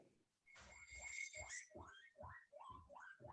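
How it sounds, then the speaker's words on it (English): A pet guinea pig squeaks during a city council meeting: a rapid series of about seven rising, whistle-like squeaks in a steady rhythm, close and clear, with no talking. "It's my guinea pig."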